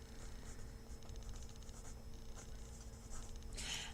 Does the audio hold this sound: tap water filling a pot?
no